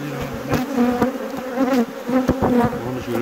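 Honeybees buzz around an open hive as old frames are handled during winter preparation, a close, dense droning hum with individual bees flitting near, steady and loud.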